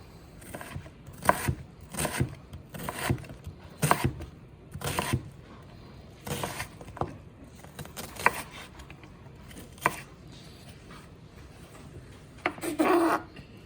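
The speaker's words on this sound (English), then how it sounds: "You want to slice it about an inch thick, excuse me, a quarter inch thick, down the line like so." Knife slicing potatoes into quarter-inch rounds for Cajun potato stew, a series of soft, close chopping taps on a cutting board at an irregular pace, fairly quiet, no talking.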